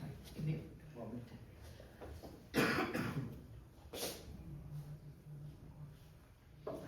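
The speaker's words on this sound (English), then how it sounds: "I think everybody's got this bad cough." Harsh coughing from a speaker at a lecture on Rajasthan's art and design, a few rough bursts around the middle, close and fairly loud over room noise with speech murmur.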